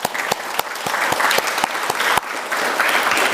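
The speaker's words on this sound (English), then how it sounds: "Big round of applause for these guys." An audience at a paramedic cording ceremony applauds, loud sustained clapping with sharp individual claps close by throughout.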